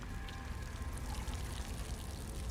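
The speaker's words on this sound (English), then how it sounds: "Pour it on the braziers" Liquid poured from a bottle onto braziers in the fantasy game Elder Scrolls Online, a quiet, continuous splashing pour lasting a couple of seconds with no speech over it.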